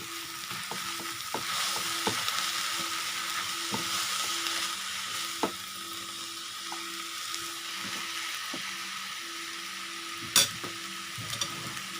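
Yellow noodles with soy sauce are stir-fried in a pan, giving a steady close sizzle with scraping and clinking of a utensil stirring through them, a louder clatter near the end.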